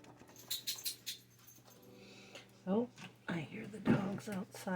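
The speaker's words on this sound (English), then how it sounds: "Oh, I hear the dog." A dog whimpers outside a house in winter, thin whining cries that come in brief bursts, faint and distant at first, with a person talking nearby.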